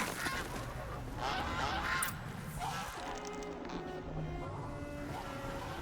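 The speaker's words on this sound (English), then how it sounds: "Geese." Geese honk in Horizon Zero Dawn Remastered, a series of nasal calls over steady outdoor ambience, fairly near and alone without talk.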